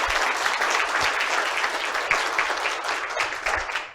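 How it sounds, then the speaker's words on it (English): An audience claps steadily after a talk on exercise and lung cancer. The dense applause is close and full and fills the whole stretch evenly, with no voices over it. "if we can get a round of applause for Deborah and the team for organising"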